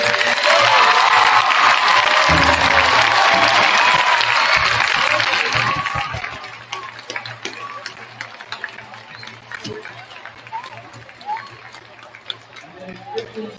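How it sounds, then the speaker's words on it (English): An audience applauds school dancers after a high school Native American dance performance. Dense, loud clapping fills the first six seconds, then fades into scattered claps and room chatter. "a round of applause for our dancers today"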